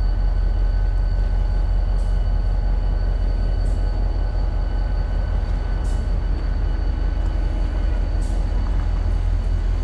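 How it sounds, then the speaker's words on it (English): Loud continuous rumble of a 1949 Budd-built Pennsylvania Railroad passenger coach rolling by on the Cuyahoga Valley Scenic Railroad, with steady low roar and periodic clicks of wheels over rail joints. "Pennsylvania Railroad coach coming up here."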